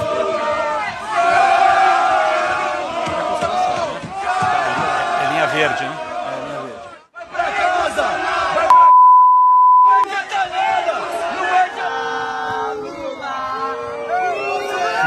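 Santos football supporters chant loudly as a crowd, voices swelling in a dense rhythmic roar with a brief pause and a short electronic beep, people talking over parts of it.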